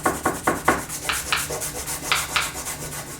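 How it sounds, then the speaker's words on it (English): A block of stropping compound rubbed onto a leather knife strop gives a run of short, scratchy strokes in a steady back-and-forth rhythm, close and fairly soft, with no talking. "You just rub it on there until I see a sort of a nice fresh new gray hue."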